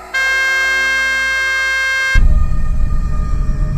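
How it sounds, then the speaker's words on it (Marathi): A car horn blares in one loud, steady, sustained tone for about two seconds, then cuts out into a dense, loud rumbling roar. "मी पुन्हा एकदा गाडीचा हॉर्न वाजवला"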